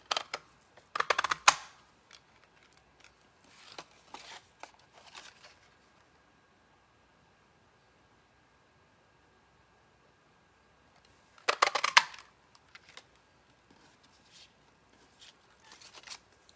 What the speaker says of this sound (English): we're going to cut these out with our scallop punch